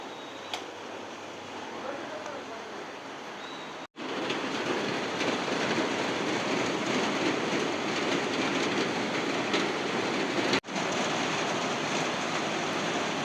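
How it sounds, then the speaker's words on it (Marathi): Heavy rain pours down in Badlapur in a dense, unbroken hiss. It is loud and continuous, with faint voices underneath. "बघितलं बदलापूरचा पाऊस किती पाऊस पडतोय एवढा जोरात पाऊस पडत"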